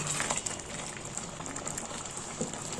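Masala for turnip kootu bubbles in a pot, a soft continuous crackle and hiss of boiling liquid with small popping bursts, fairly quiet and close.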